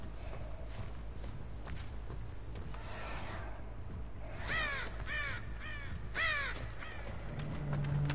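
Crows in Dead by Daylight caw in a few harsh, clustered bursts, fairly close, over a low droning ambience with faint footsteps and no speech.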